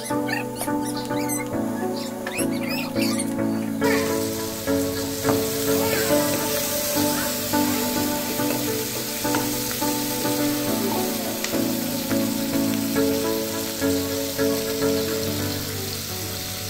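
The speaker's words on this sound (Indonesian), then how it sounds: "Tumis hingga mengeluarkan bau harum" Shallots and onions sautéing in a pan for creamy Solo-style macaroni: a steady, close sizzling and crackle running throughout with faint stirring clicks, over soft background music.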